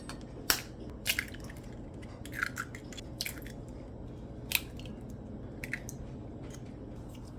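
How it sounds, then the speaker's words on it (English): Eggs being cracked for a Jamaican Christmas fruit cake, several sharp close shell cracks and wet squishy drips at irregular intervals over a quiet background. "It's time to break the eggs."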